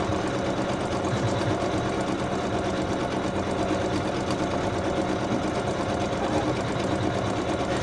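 An embroidery machine stitching out a bonnet-girl design, laying down underlay stitching: a steady, dense mechanical whir with rapid needle chatter that runs continuously at even loudness, with no voices.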